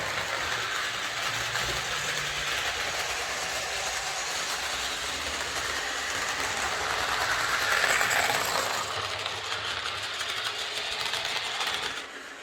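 A Replica Railways Class 45 model locomotive running on track, a close continuous motor whirr with a fine rattling hum that swells briefly near the end before stopping, with no talk.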